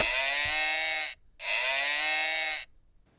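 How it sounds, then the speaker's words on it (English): Two loud, sustained electronic cow moos from a toy animal bus, each about a second long with a short gap between them, sounding harmonic and buzzy, with no voices. "That's a nice cow sound."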